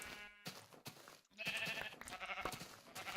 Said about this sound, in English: I'm just going to punch these sheep, because there's a lot of them